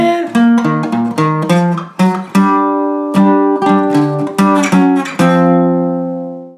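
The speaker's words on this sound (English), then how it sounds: "So that whole opening line played slowly sounds like this." A guitar slowly plays the opening bass line of a song, with a steady run of plucked single notes that ring closely and clearly on their own, the last one fading out.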